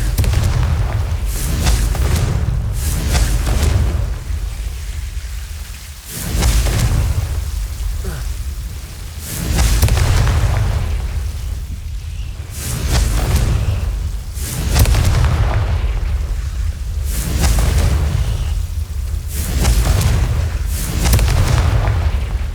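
Confringo fire spell blasts in Hogwarts Legacy, a series of deep booming explosions rolling one after another in a loud, dense wash with repeated heavy impacts throughout.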